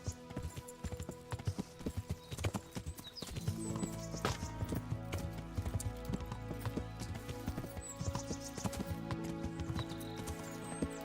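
Horse hooves clip-clop at a steady trot in the medieval game Kingdom Come: Deliverance, crisp and close under layered music and ambience, with an occasional whinny.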